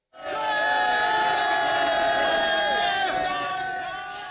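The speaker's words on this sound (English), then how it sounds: "Supporters of Nawaz Sharif cheer as he arrives to cast his ballot in Lahore." Supporters of former prime minister Nawaz Sharif cheer and chant loudly as he arrives to cast his ballot in Lahore during Pakistan's parliamentary election, a dense, sustained crowd roar that swells, then fades slightly.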